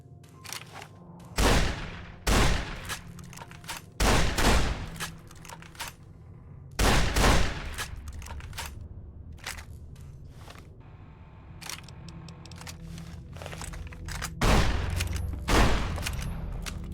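Fallout: New Vegas gunfire, scattered single loud shots spaced a second or more apart, sharp close reports with short tails over a low ambient bed.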